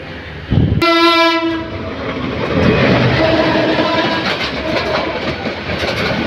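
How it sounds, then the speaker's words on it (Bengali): A loud train horn blares briefly near the start, followed by the rumbling, rhythmic clatter of a train rolling past close by as it enters Kamalapur railway station in Dhaka, Bangladesh. "ট্রেনটি কমলাপুর রেল স্টেশনে প্রবেশ করছে তেলগাঁও অতিক্রম করে"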